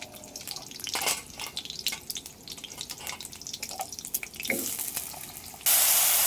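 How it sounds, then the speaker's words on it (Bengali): Water is poured into a pan of freshly fried potatoes, sputtering and crackling irregularly before a sudden loud hissing rush of steam and sizzle at the end. "এখন আমি জল দিয়ে দিচ্ছি"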